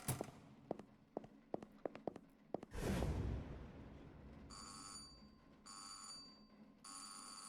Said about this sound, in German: Was ist das? Telefon? Die haben ein Telefon?